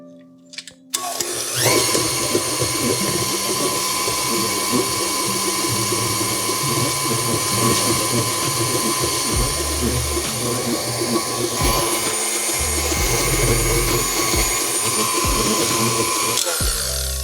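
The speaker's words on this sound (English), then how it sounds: "we're going to turn this here mixer on, and we're going to get this creaming" A stand mixer creams butter and sugar with a steady, loud mechanical whir and rattling beater clatter, starting after a brief pause and running continuously up close.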